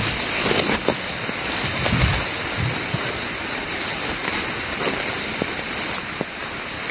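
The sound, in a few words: heavy rain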